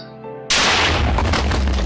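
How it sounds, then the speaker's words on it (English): A Minecraft cannon fires with a sudden loud boom, its blast ringing out and rumbling on for over a second after a quieter stretch of game noise. "It's a cannon that I cannot remember the name of"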